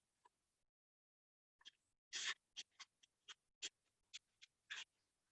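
Pencil on paper making a fast gesture sketch, heard as a series of short, close scratchy strokes in quick bursts after a brief silence, with no talking.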